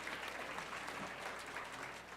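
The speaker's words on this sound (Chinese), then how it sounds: "掌声鼓励鼓励" A church congregation claps together after a group blessing: dense, continuous applause from many hands, moderately loud and steady for its brief length.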